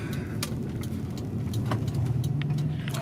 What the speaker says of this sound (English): Oh, it's a Supra.